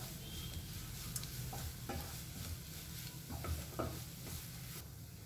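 A spatula stirs a jackfruit leaf and egg thoran in a pan, giving soft, irregular scrapes and taps over a quiet, low sizzle, with no talking.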